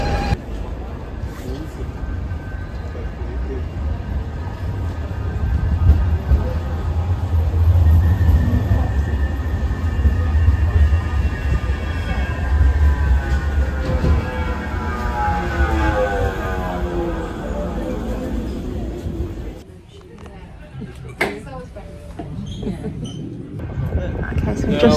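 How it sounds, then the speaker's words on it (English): A tram rumbles at the New Islington tram stop, with a steady low drone and a rising electric whine as it moves off, then a brief quieter gap with clanks. Voices murmur in the background. "we've arrived at our second tram stop"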